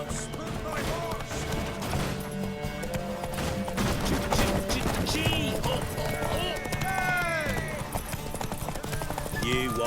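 Horse hooves clip-clop in The Witcher 3 on PS5, a steady trotting rhythm mixed under game music, crowd noise and spoken dialogue.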